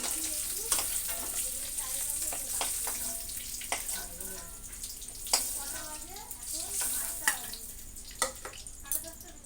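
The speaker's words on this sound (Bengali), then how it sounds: "দেখো তেলটা গরম হয়ে গেছে, ডিমটাও দিয়ে দিচ্ছি সুন্দর করে" Eggs fry in hot oil in a home kitchen, a continuous bright sizzle with scattered pops and crackles that spit out now and then over the whole stretch.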